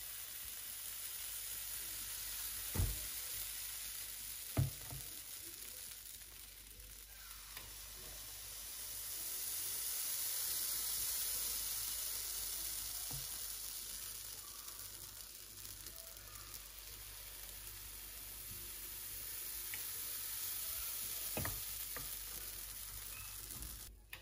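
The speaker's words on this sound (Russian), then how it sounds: "Панкейки будем жарить минуты полторы." American pancakes fry in a pan with a steady, gentle sizzle that swells and fades slightly, punctuated by a few sharp clicks of utensils, with no talking.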